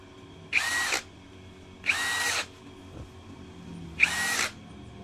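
DongCheng DCJZ2090i cordless impact drill running in three short bursts, each cutting off abruptly as the anti-kickback protection stops the motor, with quiet pauses between.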